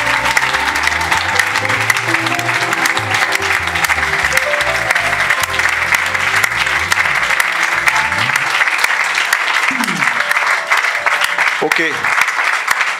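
A church congregation claps and cheers in praise during a worship service, loud sustained applause over music with a steady beat and sustained tones; a voice speaks briefly near the end.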